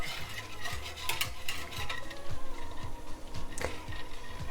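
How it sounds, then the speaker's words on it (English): A whisk stirs the sauce for Swedish meatballs in a pan on the heat, with chopped parsley in it. It makes close, fast metallic scraping and clinking against the pan over a low sizzle, with no voices. "And you wanna whisk it in there really nicely."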